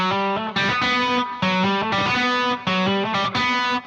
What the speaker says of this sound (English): whenever they're trying to move across strings like that, they'll smack the string that they're trying to hit next